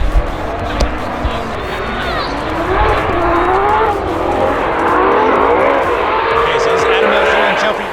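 Formula Drift pro race cars running warm-up laps at Road Atlanta, engines droning and sweeping up and down in pitch at a distance, with a crowd murmur and nearby voices chatting over the steady roar.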